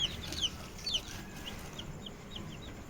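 Village hens in a poultry shed cluck in short, faint calls repeated every half second or so, over a steady background hiss, with no voices.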